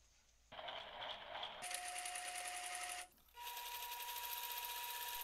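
A sewing machine stitching a mosquito screen for a minivan back window, running in two fast bursts with a brief pause between, a close, steady, whirring rattle.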